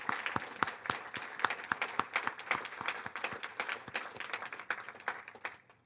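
Audience applause at a luncheon honoring David Robert Lewis, a steady patter of many hands clapping close by, holding for several seconds before thinning out at the end.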